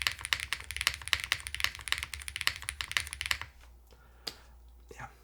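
The spacebar on a QK100 MKII prebuilt mechanical keyboard is pressed over and over in quick, even, close-up taps for about three seconds. A few softer, scattered clicks follow.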